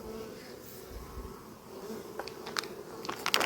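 Honeybees buzzing around hives in an apiary after overwintering, a continuous dense drone with a few brief louder passes of individual bees close by toward the end.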